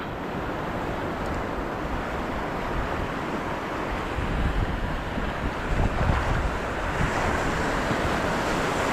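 Ocean waves surge and wash against a Philippine shore during a shore-casting fishing trip, a steady broadband roar mixed with wind buffeting the microphone and swelling louder toward the end.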